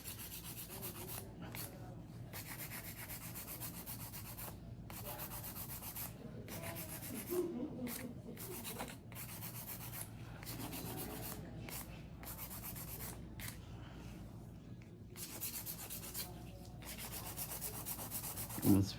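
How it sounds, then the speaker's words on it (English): Repeated scratchy rasping strokes of a hand nail file on nails, close and quiet, in short bursts separated by brief pauses. "This is a little bit of hand filing."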